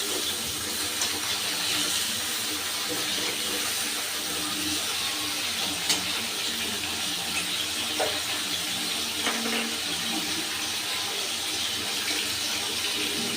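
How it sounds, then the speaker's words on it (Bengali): Eggplant and chopped tomato fry lightly in a pan, giving a steady, close sizzling hiss that runs evenly throughout with a few faint pops and no voices. "বেগুনের সাথে সাথে টমেটোগুলো আমি খুব একটু হালকা হালকা করে ভেজে নেব।"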